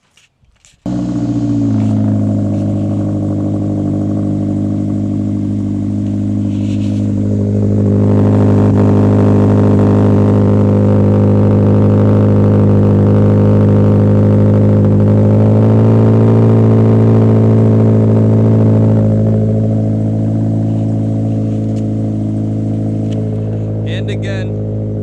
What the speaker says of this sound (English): this is just an axle back exhaust on the Subaru BRZ. Sounds really good.